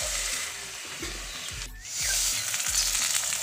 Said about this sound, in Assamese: লৰাই দিছোঁ মই